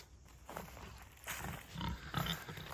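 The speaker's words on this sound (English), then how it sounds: "they're really good temperament pigs" Duroc pigs on an Alabama farm grunt in a few close, rough bursts over steady outdoor background noise, with no talking.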